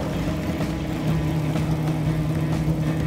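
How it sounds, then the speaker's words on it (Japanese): An overheating speedboat engine in Stormworks drones steadily at close range, a loud continuous mechanical hum with no voices. "エンジンオーバーヒート。"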